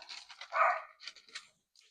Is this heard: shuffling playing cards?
no